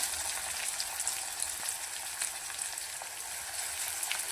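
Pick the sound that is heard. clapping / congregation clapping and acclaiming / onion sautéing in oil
onion sautéing in oil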